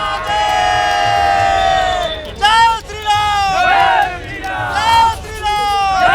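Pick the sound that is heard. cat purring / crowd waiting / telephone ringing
crowd waiting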